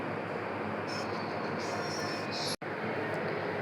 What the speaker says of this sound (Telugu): వచ్చింది మనకి మెట్రో స్టేషన్.